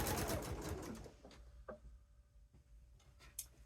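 A sewing machine stitches two fabric strips together with a rapid mechanical whir that fades into scattered soft clicks and taps.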